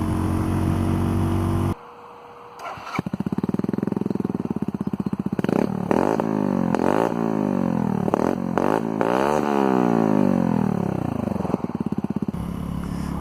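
A 2018 Mutt Mongrel 250cc motorcycle engine idles, then revs repeatedly in rising and falling sweeps, loud and close, with a sharp cut at the start and a steady idle at the end.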